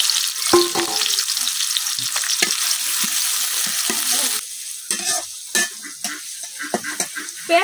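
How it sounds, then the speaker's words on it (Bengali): Chopped onion hits hot oil in a village kitchen pot for a lentil and papaya dal, a steady broadband sizzle with scraping stir clatter that eases midway, then crackling and spatula knocks continue close up. "তেলটা কিন্তু গরম হয়ে গেছে। এখন কাটা পেঁয়াজ দিয়ে দিতেছি।"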